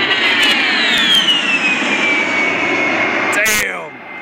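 An A-10 Thunderbolt jet on approach roars loud and steady overhead, a high whining turbine tone sliding downward as it passes, with a brief sharp burst near the end before the noise starts to fade.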